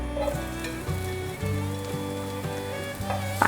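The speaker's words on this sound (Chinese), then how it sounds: "锅内放入少许油，油热了之后放入香菇" Shiitake mushrooms fry in a little hot oil in a pan, a steady close sizzle and crackle lasting the whole moment, over faint background music.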